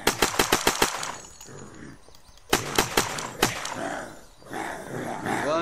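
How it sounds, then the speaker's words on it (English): Machine gun fire in the Unturned 2.0 video game, with a rapid burst of sharp shots at the start and more single cracks later, mixed with growling and other game noise. "how do you even have a machine gun?"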